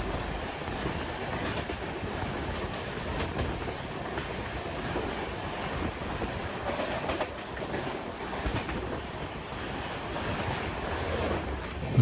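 An Amrit Bharat Express train running from Malda toward Bangalore makes a steady, loud rumble of wheels on rails with rhythmic clickety-clack from the track, heard close from on board with no voices.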